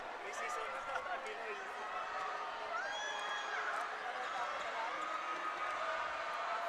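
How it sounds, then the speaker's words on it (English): Basketball crowd inside the FilOil arena during a free throw: a steady, dense murmur of many voices filling the hall, with scattered shouts and whistles, loud and constant throughout. "That's the crowd here inside the Playtime FilOil Center."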